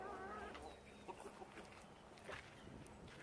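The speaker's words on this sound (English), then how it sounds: "There goes the rooster, right there." On a backyard flock, a rooster crows and chickens cluck faintly in the distance: a brief, quiet crow at the start, then soft scattered clucks over low background noise.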